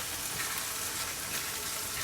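Tomato sauce for lasagne sizzles steadily in a hot pan as it is stirred, a close, even hiss with no breaks.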